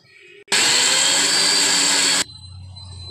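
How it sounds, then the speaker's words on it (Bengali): A mixer grinder blends two small onions, an inch of ginger and six green chilies in one loud, steady whirring burst of under two seconds that starts and stops abruptly against a quiet kitchen. "পিষে নেব মিক্সিতে আর মিক্সিতে এখানে দুটো ছোট পেঁয়াজ নিয়েছি এক ইঞ্চি আদা ছটা কাঁচা লঙ্কা এটাও আমি মিক্স করে নেব"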